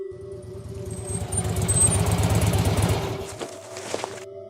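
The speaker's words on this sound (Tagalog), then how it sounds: "may narinig kami na tunog ng motor na huminto" A motorcycle engine runs with a steady low rumble, builds slightly, then cuts out and falls abruptly quiet, followed by a few faint clicks and knocks.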